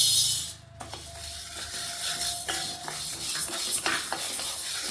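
Roasted gram being dry-roasted in a pan, with a steady close scraping and stirring rustle and a few sharper clinks of a spoon against the metal, no voices.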